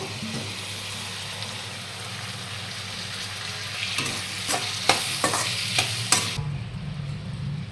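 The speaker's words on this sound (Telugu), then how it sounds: "ఇప్పుడు ఇందులో ముందుగా కట్ చేసి పెట్టుకున్న టమాటాలను వేసుకుందాము" Chopped tomatoes drop into hot tempering with curry leaves, bringing a steady close sizzle with scraping stirs and a few sharp clatters of the spoon near the end.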